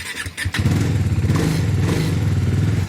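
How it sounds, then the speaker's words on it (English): A Bajaj Dominar motorcycle starts on a frosty morning in the Nepal mountains. A short crank and clatter catch in one go, then the engine settles into a loud, steady, throbbing idle right up close. "I want to see if my bike will start in one go."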